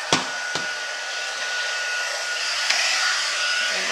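Heat embossing gun blowing steadily to melt embossing powder from underneath a project, a continuous airy whoosh with a faint high whine, a few small clicks near the start, no talking.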